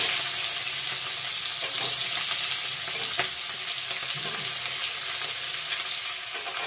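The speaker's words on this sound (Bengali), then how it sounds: "শুকনো লঙ্কা দিয়ে দিয়েছি, একটু গোটা জিরে দিয়ে দিলাম" Dried red chillies and whole cumin seeds sizzle steadily in hot oil, a continuous close frying hiss with faint crackles and occasional stirring clinks throughout.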